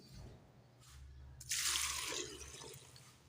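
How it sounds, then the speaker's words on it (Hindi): Water splashes into a pressure cooker holding chopped eggplant, a brief close burst of pouring after quiet kitchen clatter, with low background hum. "1 लीटर पानी डाल दिया इसके अंदर"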